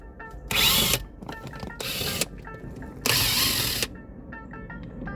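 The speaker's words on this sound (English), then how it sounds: "we're gonna go ahead and remove these two 10mm bolts here" A ratchet takes out 10mm bolts from the dashboard of a 2007 Lexus ES350, giving three loud bursts of rapid clicking close by, with quieter mechanical handling between them.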